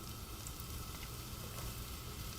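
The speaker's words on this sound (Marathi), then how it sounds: "तेल तापलंय. आता मी त्याच्यावर हा मिरची टाकते आणि हा कांदा टाकून" Chillies and onion hit hot oil in a pan while cooking a vangi batata kolambi bhaji, giving a steady, close, dense sizzle and crackle that lasts throughout with no talk.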